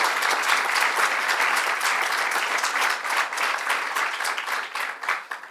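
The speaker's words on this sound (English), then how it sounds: "Let's give them a round of applause" Sustained applause from an audience at a government bill-signing ceremony on women's equality, steady dense clapping throughout that thins slightly toward the end.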